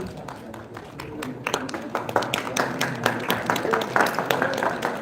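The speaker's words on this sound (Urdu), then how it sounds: "بہت بہت تالیاں آپ کے لیے" An audience at a prize-giving ceremony applauds a winner, claps growing from sparse to a steady, fairly loud round of applause with some voices underneath.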